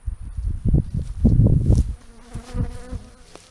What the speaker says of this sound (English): that bee just got in my face